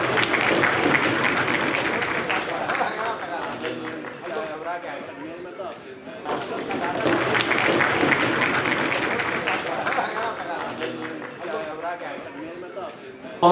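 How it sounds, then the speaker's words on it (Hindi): A large audience applauding at a formal award gathering, loud dense sustained clapping that swells and dips slightly and fills the whole stretch, with a voice speaking over it. "तो इनके लिए एक बार जरा जोरदार तालियां हो जाए।"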